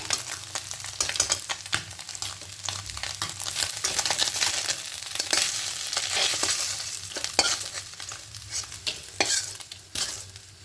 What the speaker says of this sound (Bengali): একটু কড়া করে ভাজবো